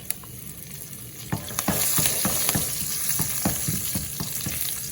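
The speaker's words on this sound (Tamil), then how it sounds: "வெங்காயம் எண்ணெயை போட்டு வடிவாக கிளறி" Onion, dried red chillies and curry leaves stirred in hot oil for paneer butter masala, a steady loud sizzle with repeated scraping strokes of the spoon, no voices.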